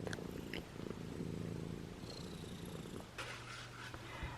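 A domestic cat purrs steadily while sitting on a person indoors, a close, continuous low rumble with no talking over it.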